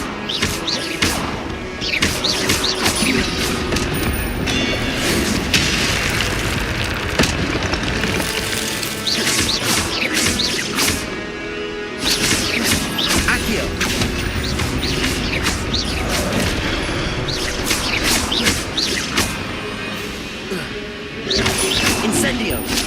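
Fire spells being cast during combat in the Hogwarts Legacy video game, with dense, loud bursts, booms and crashing impacts repeating almost without pause over a busy mechanical battle din.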